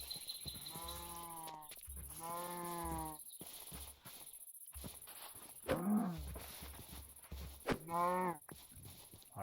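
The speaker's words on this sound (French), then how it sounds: "Par contre, il y a des vaches." Cows in a Minecraft modpack low and bleat several times in short, wavering calls spread across a quiet game soundscape, some louder and nearer than others, with brief gaps and clicks between them.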